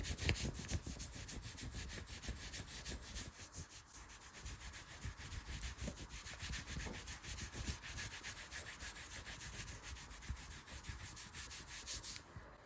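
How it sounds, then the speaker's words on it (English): Hands rub and smooth down an arm from shoulder to wrist in an ASMR massage, a close, soft, continuous brushing swish in repeated strokes with no talking. "Smoothing the arm. From the shoulder all the way down."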